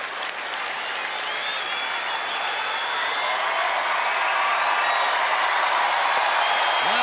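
A baseball stadium crowd at a Rangers home game against the Angels roars and applauds, the broad wash of cheering swelling steadily as fans rise to their feet.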